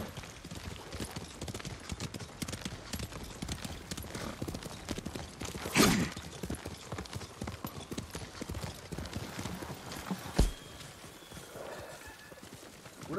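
Horse hooves clip-clop steadily in the video game Ghost of Tsushima, a quick rhythmic run of hoofbeats with a louder scuffling burst midway and a sharp knock later on.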